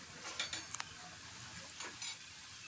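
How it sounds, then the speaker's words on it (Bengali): Turmeric, chili and cumin powder cook with garlic paste, water and salt in a pan, making a faint steady sizzle with a few light clinks and scrapes of stirring, and no talking. "আর পানি দিলাম পানি আর লবণ তারপর হলুদের গুঁড়া মরিচের গুঁড়া আর জিরা গুঁড়া এগুলো দিয়ে কষিয়ে নিচ্ছি"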